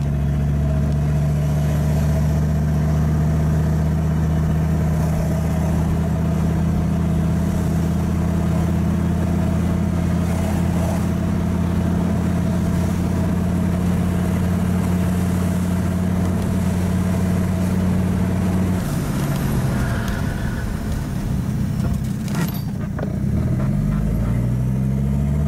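A Mercedes W123 drives slowly after a brake job, its engine humming steadily at low revs, then shifting and changing pitch near the end as it moves off.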